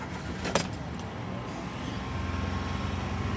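Keys jangle briefly, then a small Honda Acti kei truck with a 5-speed manual and four-wheel drive cranks and settles into a steady idle, close and fairly loud.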